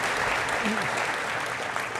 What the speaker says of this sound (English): I'd like to applaud Donna for making him the person that he is